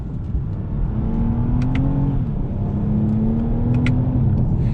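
A 2020 Toyota Camry TRD V6 blips its engine on a rev-matched downshift, a steady nearby engine drone that rises, dips at the shift and climbs again.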